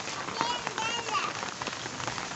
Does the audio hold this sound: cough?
no